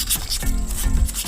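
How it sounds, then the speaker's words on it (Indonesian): Wet sanding of a Chemco wheel rim with sandpaper and water, a steady close rubbing scrape repeated in short strokes, loud and alone without talk. "Nah tujuan pengamplasan dengan air gini tuh supaya pada bagian-bagian yang kotor-kotor ini terangkat boy ya"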